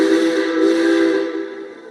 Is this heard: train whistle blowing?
yes